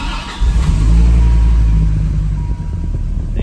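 A car engine cranks and catches, then settles into a steady, loud idle rumble close by, with the air conditioning set to full cold and the fan on high.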